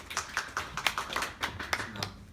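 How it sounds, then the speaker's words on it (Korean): Sparse clapping from a small audience at a smartwork lecture, distinct individual claps in an uneven rhythm, fairly quiet, with a faint voice at the very end. "우리 양진호 팀장님 박수로 모시겠습니다"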